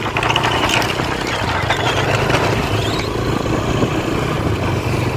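A modified motorcycle engine idles loudly and steadily up close, a rough continuous rumble with a faint rising whine partway through, no speech.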